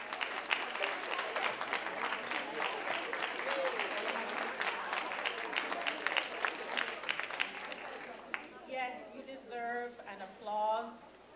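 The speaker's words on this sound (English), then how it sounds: "And applause and much," Audience applause at a college first-year convocation, sustained dense clapping from a large crowd that thins out near the end as a voice begins speaking.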